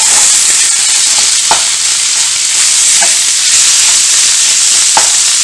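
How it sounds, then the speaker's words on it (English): Ground pork browns in hot oil in a pan, giving a loud, steady, close sizzle with a few faint stirring knocks and no voices. "we're going to add the pork to the pan. We're going to brown off this pork"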